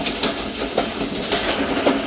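Thal Express passenger train rolling past a station, steady rail rumble with rhythmic clickety-clack of wheels over joints, heard from on board, continuous and fairly loud.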